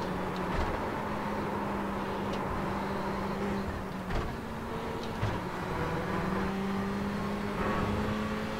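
An HPD prototype race car engine drones steadily through the Porsche curves at Le Mans in the iRacing sim, a sustained loud engine tone with slight pitch shifts and faint clicks, heard alone.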